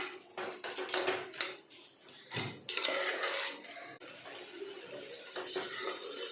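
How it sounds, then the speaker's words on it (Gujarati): Water poured into a pan of rice sautéed in oil for a vegetable pulao, a steady rushing splash with clinks of utensils, close and fairly loud, no talking. "તો હવે આપણે પાણી નાખીશું।"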